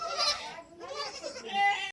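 Young goat kids bleat in quick, overlapping cries, close by and fairly loud, one call following another over about two seconds.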